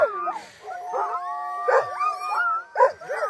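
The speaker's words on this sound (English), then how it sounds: "we might get a big howl out of this, folks, so let's just see what these other dogs do" Sled dogs howl at the Tolsona Lake checkpoint of a 2022 race in -40F cold, several long, wavering, overlapping howls rising and falling close by, with brief yips between them and no talking.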